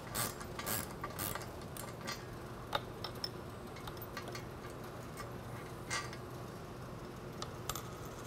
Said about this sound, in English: We're first going to take off the bolt that's in the center of the beam here